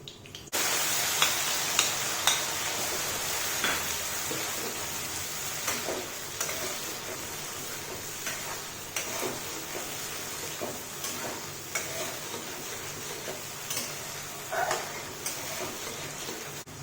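Cumin, fenugreek and green chili sizzle and fry in hot oil with tomato paste for a fish curry. The sizzle is a steady hiss, broken up by a series of irregular stirring clicks and taps from a spoon against the pan.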